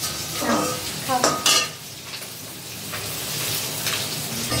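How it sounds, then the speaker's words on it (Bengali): Sarputi fish fry in hot oil in a home kitchen, giving a steady sizzle broken by a few clinks and scrapes of a utensil stirring in the pan, close and fairly loud. "দেখো মা এখানে মাছটা ভাজছে।"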